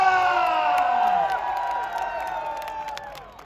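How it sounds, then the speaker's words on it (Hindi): A large crowd at a Salman Khan appearance in Riyadh, Saudi Arabia cheers, whoops and claps loudly, the roar peaking at first and gradually easing over the span, with shouts rising out of the mass. "come on ladies and gentleman, जोरदार तालियां फॉर सलमान"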